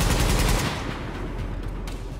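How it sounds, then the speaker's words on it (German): Enemies fire rapid automatic gunfire in The Division's Dark Zone, with loud, dense bursts that fade into a rattling tail and scattered shots. "Die schießen einfach auf die Leute."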